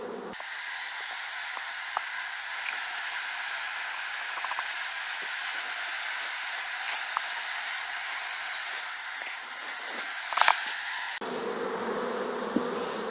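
Honeybees buzzing on a frame pulled from a strong colony with many drones, a steady dense hum that continues throughout with no talking.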